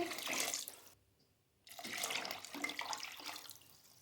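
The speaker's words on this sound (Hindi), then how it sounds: "अब हम इसमें 2 जग भर के पानी के डाल देंगे।" Two jugs of water pouring into a soup pot of vegetables, a steady splashing gush that briefly stops, then resumes loud and close for the second jug.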